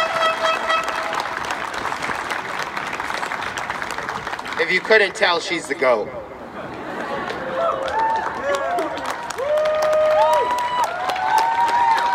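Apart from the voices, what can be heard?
rally crowd clapping and cheering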